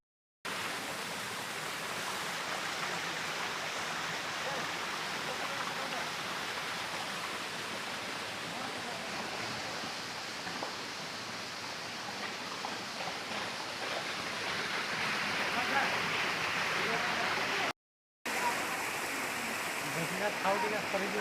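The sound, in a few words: Barehipani waterfall in Simlipal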